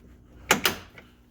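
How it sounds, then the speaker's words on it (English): Car door locks engage on a vehicle after an electric-to-manual window conversion, with two quick mechanical clunks in close succession and a fainter click after, close and isolated. "just make sure your door locks go in"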